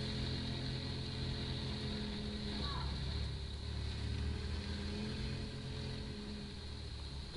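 A motorbike engine drones steadily while riding in the video game Tomb Raider: Underworld, a continuous, even hum with no clear revving that eases slightly toward the end.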